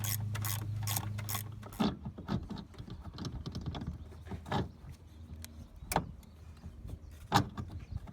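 Ratchet wrench undoing the two 14mm bolts that hold a brake master cylinder to the brake booster on a car, a fast close clicking burst followed by scattered slower ratchet clicks, metallic clinks and handling noise.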